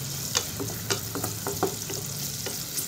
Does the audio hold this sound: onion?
yes